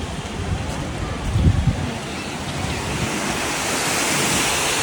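Steady rushing water of the Godavari River at Panchavati, with a constant broad roar, wind buffeting the microphone, and a brief low thump partway through.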